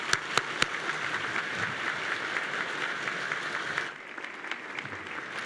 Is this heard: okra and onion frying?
no